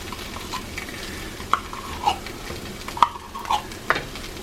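Tomato paste fries with seasonings and vegetables in a pan for homemade chili, a steady soft sizzle running under a few sharp spoon scrapes and stirs, close up with no talking.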